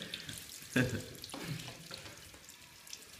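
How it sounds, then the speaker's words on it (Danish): A liter of cleaning liquid is poured into a kitchen sink, making a brief splashing gush and then a softer running wash with gurgles, heard close by over a steady background. "jeg hælder en helt liter rengøringsmiddel ned i vasken"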